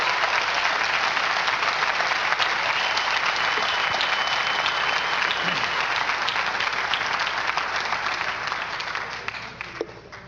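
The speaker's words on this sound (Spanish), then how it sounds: "A Él den un aplauso fuerte" A church congregation bursts into loud, sustained applause, dense clapping from a large crowd filling the room, steady throughout and easing slightly near the end, with no voices over it.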